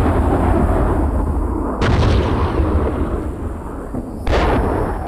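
Incoming gunfire and shell blasts hit around a tank in Steel Beasts Pro, two sharp loud impacts a couple of seconds apart over steady engine rumble.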